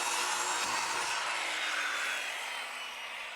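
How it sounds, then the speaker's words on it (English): Plywood sheet being cut with a saw, a steady broadband rasping cut that holds continuously and close, tapering slightly toward the end, with no talk. "So I'm gonna go ahead and cut the plywood piece that's gonna go on this side."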